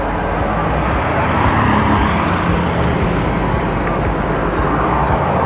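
Continuous road traffic at a bus stop in Kuala Lumpur, a steady roar of cars, buses and trucks passing nearby with no talk over it.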